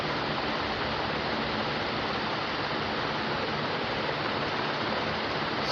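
Water running steadily from a tap while a pressure cooker is rinsed, a continuous broadband rush with no pauses, close and even throughout.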